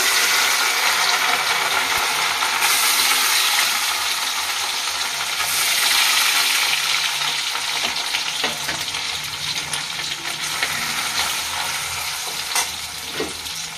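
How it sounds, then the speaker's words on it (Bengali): Grated coconut frying in a hot pan gives a steady, loud sizzle with occasional scraping stirs and small clinks, continuous throughout with no talking. "আগে নারকেলটা ভেজে নেব।"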